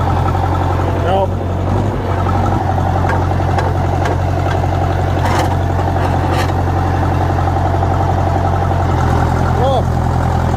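A vehicle engine idles with a steady, loud low rumble while the clutch is tested in gear, the tone holding continuously throughout with faint clunks and someone talking over it.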